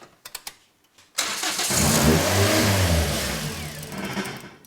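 A car with a newly installed cheap eBay turbocharger cranks briefly, catches and fires, then revs loudly and roars at steady high revs close by, its note slowly easing toward the end.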